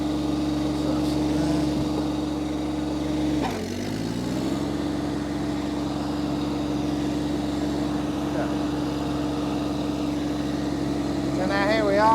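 An Iseki TXGS24 sub-compact tractor engine drones steadily at close range, dipping briefly as the revs change, then settling back into an even hum.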